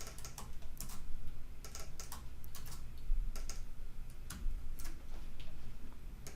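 Steady run of close computer keyboard keystrokes while code is entered, many quick clicks in irregular bursts over a low constant hum, with no voices.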